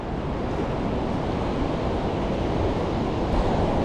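Ocean surf at Durban's South Beach, a continuous broad wash of breaking waves with wind buffeting the microphone, steady and fairly loud throughout.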